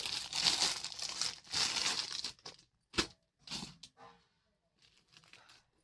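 A new saree is unwrapped from plastic packaging, with loud crinkling and rustling of plastic at first, then a few sparse crackles and soft handling noises that fade toward quiet.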